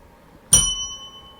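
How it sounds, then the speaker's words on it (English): A single bright bell ding rings out sharply, then its clear metallic tone lingers and slowly fades over about a second in an otherwise quiet background. "Kmax, why don't you hit me with a bell?"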